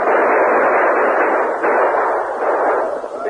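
Battle gunfire in an old radio drama, a dense, loud, continuous crackling roar of many shots blended together, with no voices over it.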